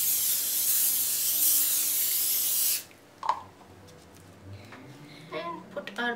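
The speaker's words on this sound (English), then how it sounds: "Now I'll spray some oil on the oven tray." A sharp, steady cooking oil aerosol spray hisses onto an oven tray for about three seconds, then stops, followed by a light clink and faint background talk.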